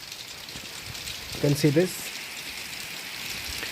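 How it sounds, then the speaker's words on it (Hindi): Steady rain falls in Mussoorie, a broad continuous hiss with a man's short spoken phrase briefly over it partway through. "बारिश और तेज़ हो गई है"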